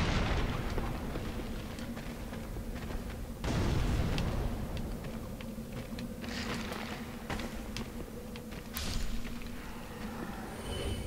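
A fire spell cast in Dark Souls 3 gives a dense, rumbling burst, with a stronger whoosh about three seconds in and a sharper flare near nine seconds over a steady game background.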